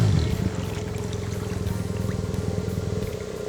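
BMW HP2 motorcycle idling during a deep water crossing on a trail, a low steady engine throb with a rhythmic pulse, moderately close and fairly quiet, no voices.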